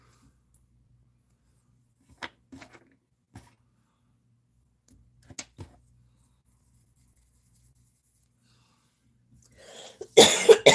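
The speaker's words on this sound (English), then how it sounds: "I still have just a little cough from being sick last week." A single burst of coughing from one person near the end, loud and close, after a mostly quiet stretch with a few faint clicks and creaks.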